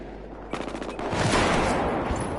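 LMG machine gun fire in Battlefield 4 hardcore multiplayer: a quick burst of rapid shots, then a louder, sustained roar of gunfire and blasts, close and without talk.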